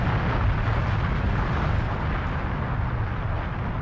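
A supervolcano eruption explosion: a loud, continuous deep roar with a dense rumbling low end that holds steady throughout, with no distinct separate blasts.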